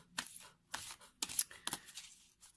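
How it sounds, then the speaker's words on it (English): A deck of oracle cards shuffled by hand, four or five quiet crisp riffling bursts in an uneven rhythm, close and faint, with no talking. "just going to shuffle these, and these are actually one of my newest card decks"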